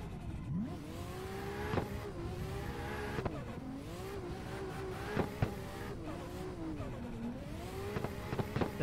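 Car engine in a racing video game while drifting, played on a MOZA R21 wheel, revs rising and falling repeatedly with sharp shifts and brief tire-squeal textures, loud and continuous throughout.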